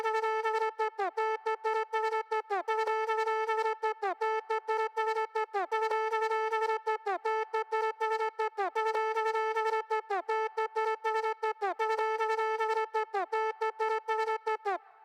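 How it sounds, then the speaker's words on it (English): A conch shell sample, pitched and played in an unusual way, repeats as a rhythmic melodic figure in a beat. Its bright, horn-like tones stab in a steady pattern on their own. "I used the conch shell and I twisted up a little bit. So I kind of played it not usual how it's played and then pitched it."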